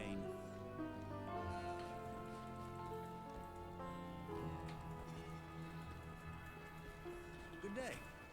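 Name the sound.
desert rain in the video game Diablo 2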